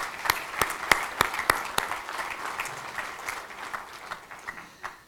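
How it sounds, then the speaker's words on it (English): Applause at a college athletics hall of fame banquet for a team, a small crowd clapping with a few sharp, distinct claps standing out early before the clapping thins and fades over about five seconds. "So let's give them a round of applause."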